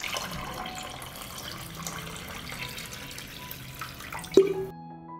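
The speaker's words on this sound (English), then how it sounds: "I pour hot water up to the height of the lid." Hot water poured into a pot around glass jars set on a cloth for pasteurizing, a steady splashing pour that ends with a brief clink.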